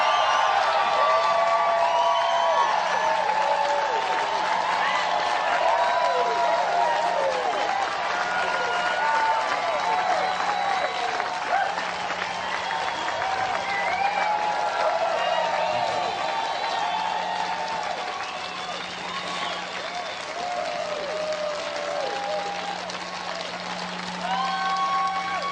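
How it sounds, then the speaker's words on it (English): An audience at a motivational talk applauds at length, a loud, steady roar of clapping with some cheering and whoops that eases slightly toward the end. "Give yourselves a round of applause."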